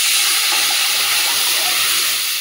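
A pot of dal with tomato at a rolling boil, a loud, steady, close hiss of bubbling and steam that carries on without a break.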